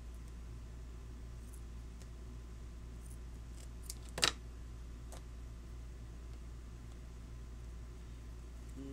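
Scissors snip through duct tape once, a brief, close crisp cut rising out of a quiet, steady room hum, with a few faint small clicks just before it.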